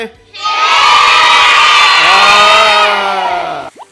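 A crowd of children lets out a loud, sustained cheer with high shouts and whoops, ending abruptly after a few seconds.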